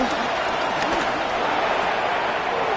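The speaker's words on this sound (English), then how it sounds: "The crowd cranking it up another notch before 3rd and long" Football stadium crowd roaring before a third-and-long play, a dense, continuous broadband wash of cheering that holds steady and loud throughout, with no gaps.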